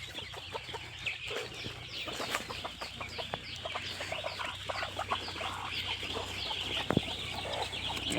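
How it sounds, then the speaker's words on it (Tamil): A mother hen with her chicks on a country chicken farm, soft steady clucking mixed with dense high chick peeping throughout, a constant low background hum underneath. "இது ஒரு தாய்க்கோழி."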